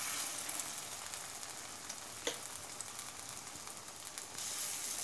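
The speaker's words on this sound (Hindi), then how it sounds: "पकौड़े को हमने तलने के लिए दे दिया है, अब इसे गोल्डन ब्राउन होने देंगे।" Cabbage pakoras fry in hot oil in a kadhai, giving a soft, continuous sizzle and crackle with a few brief pops, faint and alone.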